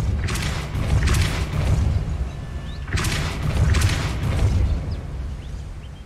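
The Depulso force spell from Hogwarts Legacy goes off as two heavy booming blasts about three seconds apart. Each has a rumbling low body and crackling bursts on top, loud and close, with nothing else around them.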